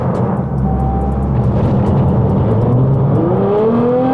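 A Litchfield-tuned R35 Nissan GT-R Nismo track-spec car with 757 bhp accelerates hard, its engine note rising steadily under a loud cabin drone, with a brief dip suggesting a gear change partway through.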